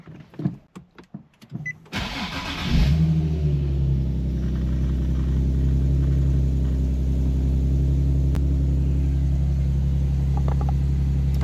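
Nissan 370Z engine starting for the first time after an oil pressure gauge install: a few clicks and a brief crank, then the engine catches and settles into a steady, loud idle rumble that runs on alone.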